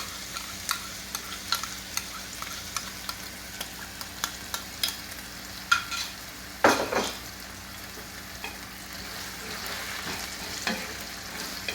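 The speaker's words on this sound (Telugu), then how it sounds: "ఆనియన్స్ బాగా ఫ్రై అయినాయండి." Onions and green chillies frying in a pan for an Andhra-style crab masala curry, a steady close sizzle with scattered stirring scrapes and clinks from a utensil, one louder clatter partway through, no voices.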